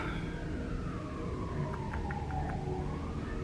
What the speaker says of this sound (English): be it. Oh, ambulance.